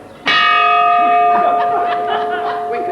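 Bells chime after a sudden loud strike, ringing with clear sustained tones that slowly fade while soft voices and faint laughter sit underneath.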